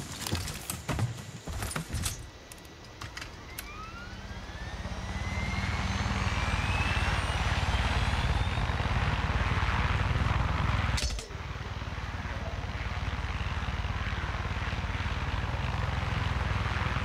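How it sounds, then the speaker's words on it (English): A helicopter in Far Cry 6 spins up and settles into a loud, steady rotor and engine roar after some clattering handling noises, with a brief dip midway before the drone resumes. "I think this time we can take a chopper over there"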